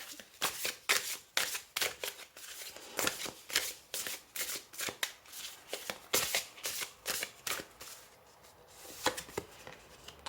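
Tarot cards are shuffled by hand in quick, crisp riffles and flutters, repeating in irregular bursts, close and quiet with no talking.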